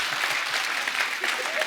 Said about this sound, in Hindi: एक बार जोरदार तालियां संजू पाजी के लिए